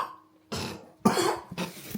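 Two or three harsh coughs from someone close by, separated by brief pauses, with a short throaty rasp at the end and no talking.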